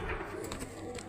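Peshawari pigeons coo softly in a few short, faint pulses at a home pigeon loft, with low background noise and no clear talk.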